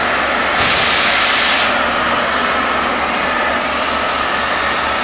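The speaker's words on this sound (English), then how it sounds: "vacuum is always on, so vacuum is always down to the suction foot" A vacuum lifter crane runs with a loud, constant suction hiss and motor drone throughout, with a brief sharper burst of airflow early on.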